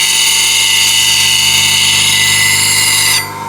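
A small piece of elm spins on a wood lathe at 2000 RPM, making a loud, steady machine whine with a buzzing hum that drops and thins near the end.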